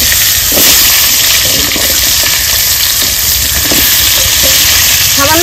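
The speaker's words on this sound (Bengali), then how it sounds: "মাছ ভাজা হয়ে গেছে, মাছ ভাজার তেলে যে ভেজে নেবো আলুগুলো।" Potatoes fry in leftover fish-frying oil, giving a loud, steady close sizzle and hiss that continues without a break.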